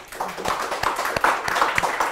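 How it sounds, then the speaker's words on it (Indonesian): A small audience claps at the close of a food and beverage discussion session, giving a brief, uneven patter of scattered hand claps of moderate loudness with no talk over it. "mari kita beri tepuk tangan yang meriah kepada Mbak Anggi"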